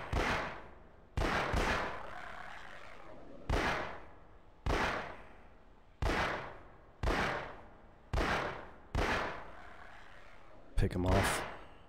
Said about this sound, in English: Pick him off with my sniper shots from a distance.